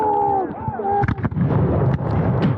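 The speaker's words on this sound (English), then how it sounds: "Fire at will!" A ragged musket volley at a Revolutionary War reenactment battle, several loud close gunshots cracking in quick succession after shouted commands, with men yelling amid the fire.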